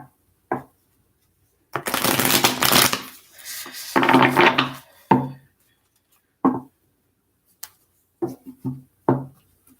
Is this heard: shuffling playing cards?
yes